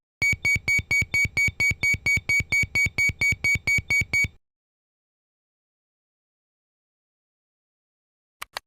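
An Airbus A320 cockpit evacuation horn sounds as a loud, rapid train of about fifteen identical electronic beeps over four seconds, then falls silent, with a brief final blip near the end.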